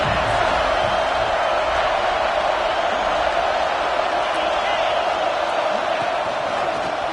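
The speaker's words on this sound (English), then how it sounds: "this crowd is at fever pitch" A packed stadium crowd roars continuously at an LSU versus Alabama college football game during a third-down play in the red zone, a dense, loud, unbroken wall of cheering.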